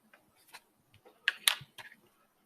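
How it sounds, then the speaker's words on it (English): Colored pencil tips snapping: a quick series of small, sharp ticks and clicks, a few of them brighter and louder, close up and alone in an otherwise quiet room. "Wow, how many broken colored pencil tips can I possibly make?"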